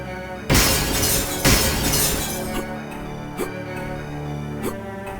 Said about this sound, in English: Break the windows by firing the Zero Cannon